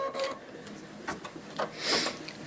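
Embroidery machine stitching an in-the-hoop pocket purse, tacking down one side with a rapid mechanical whirring and clicking of the needle, close and steady with slight surges in intensity.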